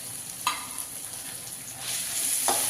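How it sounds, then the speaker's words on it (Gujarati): Onion, cabbage and carrot tossed into a hot pan for manchow soup, with a steady sizzle and two short stirring clatters near the start and the end. "પછી મેં કાંઈ ડુંગળી લીધી છે ડુંગળી નાખશું કોબીજ છે ગાજર નાખી દઈશું"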